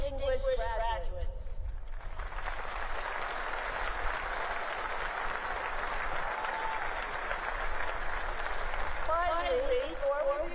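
Audience at a Naval Academy graduation ceremony breaks into sustained applause that fills the hall for several seconds, with a speaker's voice heard just before and again as the clapping fades.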